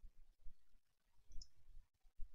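A zip code is typed on a computer keyboard: soft, faint key clicks in an irregular rhythm in a quiet room.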